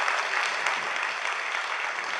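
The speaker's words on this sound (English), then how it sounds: "Let's give that a round of applause." Audience members at the opening plenary of a mental health and spirituality conference applaud together, a steady, fairly soft wash of many hands clapping that continues evenly throughout without speech.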